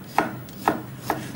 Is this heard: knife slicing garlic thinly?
yes